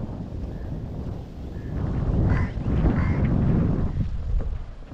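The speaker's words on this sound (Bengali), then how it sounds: "প্রচুর হাওয়া, প্রচুর ঝড়" Strong wind blows at a beach after a night-long storm and heavy rain, a loud, continuous rumbling gust noise that swells in the middle and stays steady.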